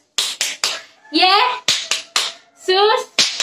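Sharp hand claps come in quick groups, alternating with a child's sung Indonesian chant at a Sunday school service, bright and close.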